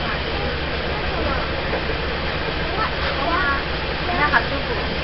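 A Taiwan Railway DR2700 diesel local train runs through a tunnel between Taitung and Fuli, heard from inside as a loud, echoing roar that swells briefly near the end, with faint voices beneath.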